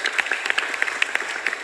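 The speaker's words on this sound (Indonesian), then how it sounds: "tepuk tangan" An audience at a gathering breaks into applause, with quick, uneven claps from a modest crowd in a short, steady patter.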